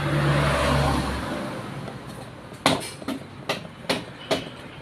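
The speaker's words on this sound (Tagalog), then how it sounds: "Ikutin lang natin yung gulong, manualin natin ang ikot. Tignan natin kung aakit yung speed sensor niya." A Yamaha Nmax scooter's rear wheel is spun by hand on the stand, giving a low whirring rush that fades out, then a series of five sharp mechanical clicks or ticks at roughly half-second intervals, close by with no talking.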